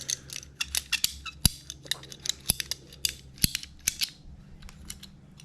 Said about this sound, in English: We have my PVC cutters.